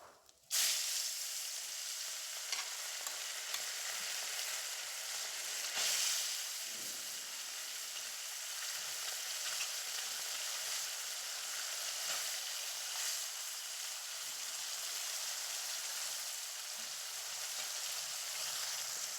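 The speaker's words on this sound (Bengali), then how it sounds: "বাকি মাছগুলো কড়াইতে দিয়ে একদম লাল লাল করে ভেজে তুলে নেব" Amudi fish frying in oil in a wok, giving a loud, steady sizzle and hiss that runs unbroken for the whole stretch with no talking.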